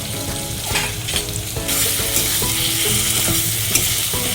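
Spice paste fries in hot oil for a banana-flower and prawn curry, a loud, steady sizzle broken by close scraping stirs of a spoon against the pan.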